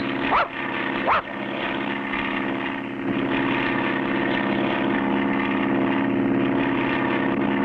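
A propeller airplane drones steadily in a cartoon bush-pilot scene, a continuous loud engine hum with two brief sharper sweeps near the start, no talk over it.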